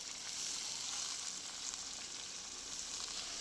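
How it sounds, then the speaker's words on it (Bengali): Cabbage and potato stir-frying in hot oil give off a steady, dense sizzle, close and continuous, with soft stirring scrapes and no talking. "বাঁধাকপি আলু বেশ কিছুক্ষণ তেলের মধ্যে নাড়াচাড়া করে নেব"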